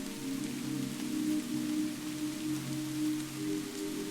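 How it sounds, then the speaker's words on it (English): Soft rain falls steadily on surfaces in the late afternoon countryside, a gentle, even patter of drops with a faint low hum beneath, continuous and quiet throughout. "the late afternoon rain falls softly, blanketing the landscape in a gentle, rhythmic downpour"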